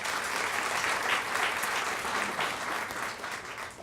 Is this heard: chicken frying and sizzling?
no